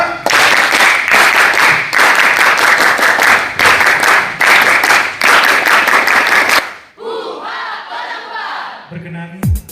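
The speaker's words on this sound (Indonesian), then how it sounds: "Dua kali tepuk pramuka." Pramuka scouts at a Garuda scout inauguration ceremony in Kupang perform a loud, crowded rhythmic clap pattern twice, sharp synchronized bursts with brief pauses, then the room settles into murmuring.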